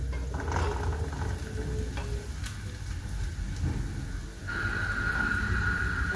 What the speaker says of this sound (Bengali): মোটামুটি পেঁয়াজ এবং রসুন, এলাচি, এগুলো অন্যান্য মশলা যেগুলো দিচ্ছি এগুলো অলরেডি ভাজা হয়ে গেছে